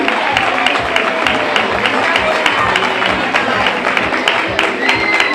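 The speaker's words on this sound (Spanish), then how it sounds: "Ese aplauso muy fuerte para el juego terminal." A crowd at a carnival celebration applauds with steady, dense clapping for several seconds, fairly loud and close, with a voice talking over it.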